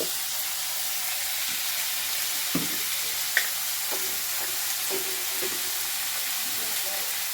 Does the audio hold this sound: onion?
yes